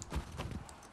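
A horse's hooves clip-clop briefly in The Last of Us Part II, a few soft, close thuds in quick succession lasting about a second.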